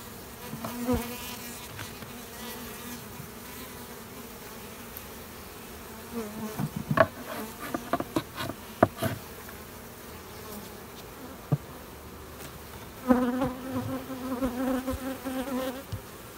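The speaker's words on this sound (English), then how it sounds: "hanging this over in here for a little bit to let bees get on it" Honey bees swarm over a hive frame that has had its old drone brood cut away, a dense continuous buzz close by, with occasional knocks and handling noises from the frame.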